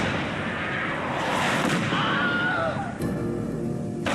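Artillery strike in Fallout 4, called in with a smoke grenade: a dense, continuous rumble of distant blasts and crackling debris that holds loud throughout, with a sharper impact near the end.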